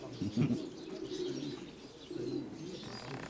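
Pigeons coo in low, rolling calls close by, several soft throaty phrases overlapping in a steady murmur.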